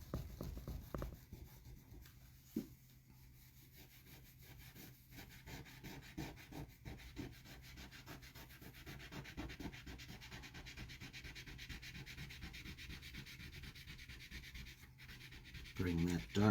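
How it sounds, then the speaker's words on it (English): A finger rubs oil pastel along the edge of a card, making a steady, soft dry scraping and rubbing texture that carries on near and close for most of the stretch, with a few brief louder scuffs. "I'm going to take my finger and just rub it along the edge of it here"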